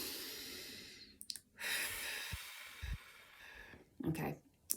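A person takes a deep breath during a calming relaxation exercise: a long soft inhale, then a slow sighing exhale, close and quiet, with a few faint clicks and brief soft sounds between.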